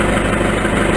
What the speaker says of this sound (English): It's idling at about what,